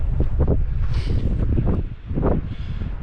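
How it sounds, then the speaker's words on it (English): Strong wind buffets the microphone in loud, low rumbling gusts that swell and ease in an exposed spot in the North Pennines, with no other sounds standing out. "It's quite windy, you can probably hear that on the mics actually."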